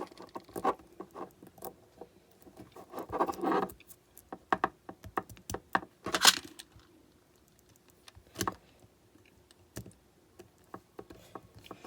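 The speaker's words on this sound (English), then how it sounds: "Now install the other screw here." Small screw being fitted into a Mantua 4-6-0 model locomotive, heard as light scattered ticks, clicks and scrapes of a screwdriver and metal parts, close and fairly quiet with pauses between bursts.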